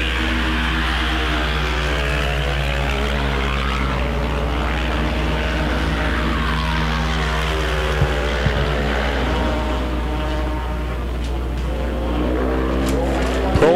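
Pro ice bike racing motorcycles roar continuously around a frozen track during an open final, engines droning and revving loudly up close with shifting pitch as bikes pass, a steady wall of engine noise throughout.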